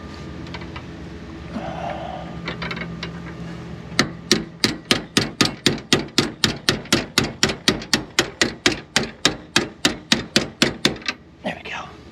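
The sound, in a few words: hammer tapping shackle pins through bushings with a socket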